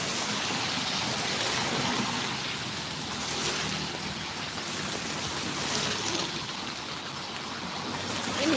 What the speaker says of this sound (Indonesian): Ini sudah hujan gede ya.